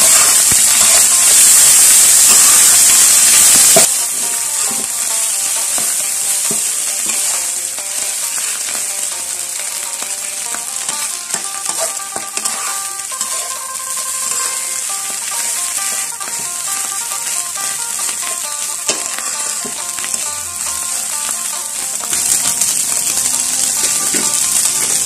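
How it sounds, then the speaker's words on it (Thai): Frog meat stir-frying with curry paste in a hot wok gives a loud, continuous hiss and crackle, with a brief surge of sizzle at the start before it settles into steady frying. "พอเครื่องสุกนะคะเราจะคั่วรวมกันเลย"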